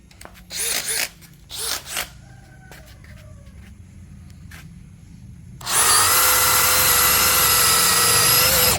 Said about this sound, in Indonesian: Media yang akan kita bor adalah kayu mahoni.